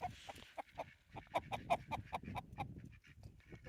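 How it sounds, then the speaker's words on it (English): Two juvenile roosters cluck close by in quick, uneven bursts, faint overall, with soft farmyard background noise and no talk. "I got the 2 juvenile roosters over here"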